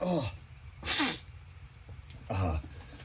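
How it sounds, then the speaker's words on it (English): Sneezing from a person indoors on a cold day, with three short bursts spread across a few seconds, fairly close and loud against a faint background. "There might be some sneezing as it's cold outside."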